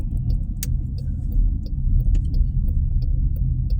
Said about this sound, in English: look at this traffic. And this is just a gas station.